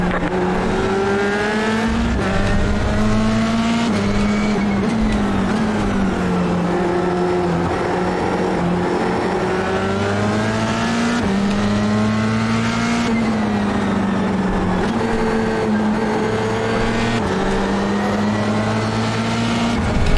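Formula 3 race cars lapping the Hungaroring in the iRacing simulator, a loud, high engine whine climbing and dropping through gear shifts for twenty seconds, with other cars faintly around and no talking.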